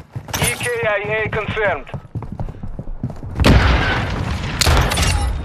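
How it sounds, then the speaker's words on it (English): A grenade in Call of Duty MW2 goes off with a loud, heavy boom partway through, followed by a rumbling tail. Game voice lines and gunfire clatter are heard before it. "First grenade!"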